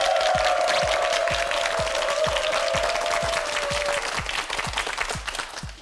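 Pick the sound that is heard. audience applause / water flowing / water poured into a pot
audience applause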